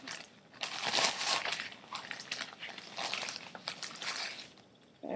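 A plastic bag full of baking soda is handled close up, giving repeated crinkling, crunching rustles in uneven bursts. Short quiet gaps fall between the bursts, and no one speaks.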